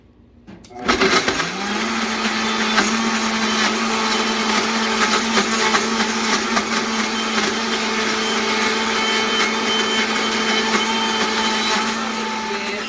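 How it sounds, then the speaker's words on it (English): A countertop blender whirs steadily for about twelve seconds as it mixes coconut sugar and margarine, starting abruptly with a loud, even motor drone that holds constant throughout, with no voices. "And we're going to blend it a little bit"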